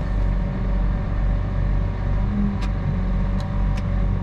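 A farm tractor pulls out of a building, its steady low engine drone continuous and close throughout, with a few brief high squeaks near the end.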